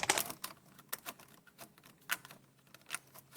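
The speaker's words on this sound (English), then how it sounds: "So now I'm going to cut it with a kind of a scissors." Scissors snip through stiff vinyl siding in a quick series of sharp, dry clicks, quiet and close, with short pauses between cuts.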